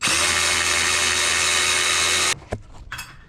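A power tool whirs loudly and steadily for about two seconds while a 10 mm bolt is removed from a Subaru turbo inlet pipe, then stops, leaving a few faint clicks and clanks of handling.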